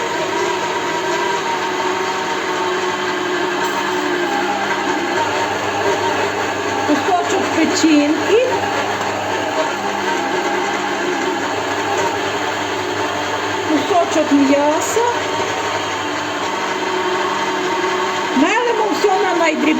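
An electric meat grinder minces pork for a baked pâté, its motor holding a constant droning whir with a few strained dips as chunks pass through. A person talks over it.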